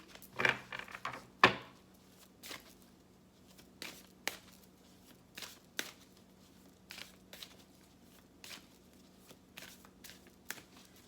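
Animal oracle cards are shuffled in quiet, irregular bursts: a few louder riffles and slaps early on, then a steady scatter of soft card flicks and taps close to the microphone, with no talking.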